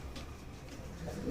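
Pigeons from a long-kept loft collection coo steadily through a low, soft murmur, the cooing continuous and fairly close, with no voices over it.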